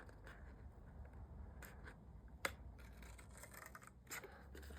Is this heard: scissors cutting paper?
yes